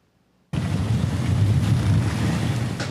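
Typhoon Yagi's wind and waves batter the Vietnamese coast near Ha Long Bay, where boats lie piled at the shore. After a brief silence, a loud roaring rush of gusting wind and surging water cuts in and continues steadily.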